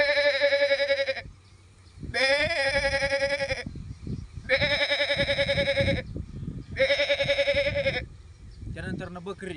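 A village mimicry artist voices a goat's bleat, giving four long, wavering, nasal bleats separated by short pauses, close and loud with a slight breathy trail between calls.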